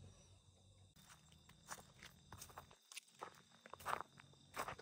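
Footsteps of a lone walker at night near a graveyard and abandoned school, soft steady steps crunching faintly on the ground, quiet and close with no talking.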